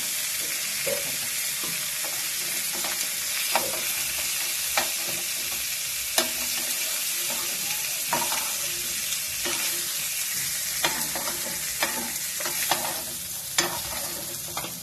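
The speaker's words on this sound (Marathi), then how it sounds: "आता बाकीचे पण सगळे असे फ्राय करून घ्यायचे" Fish pieces fry in a pan with a continuous loud sizzle, broken by occasional sharp clicks and taps of a utensil.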